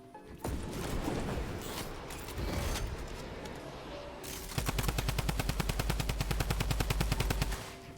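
A drum gun in Fortnite rattles off a long, fast burst of automatic fire in the second half, loud and close, following earlier scattered bursts and game noise.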